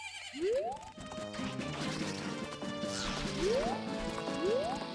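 A horse in the video game Majora's Mask gives several rising whinnies over a busy, clattering game soundtrack, each call sweeping upward sharply and repeating a few times across the clip.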